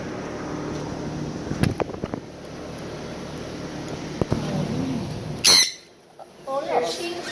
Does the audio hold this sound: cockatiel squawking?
yes